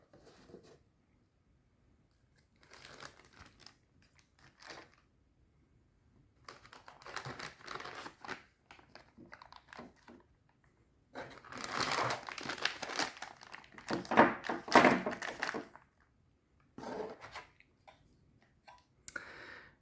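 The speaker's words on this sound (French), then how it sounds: "je vais ouvrir donc ce colis et sans un mot, je vais déballer tout ça" A parcel is opened and its contents unwrapped: bursts of crinkling packaging and crumpling paper with small clicks and taps, in separate handling episodes between quiet pauses, close and with no talk.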